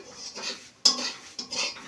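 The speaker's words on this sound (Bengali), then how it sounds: "এইভাবে নেড়ে ছেড়ে নিয়েছি" Carrots for carrot barfi are stirred in a pan with a metal spoon, giving a few distinct clinks and scrapes with soft rustling between them, close and fairly quiet.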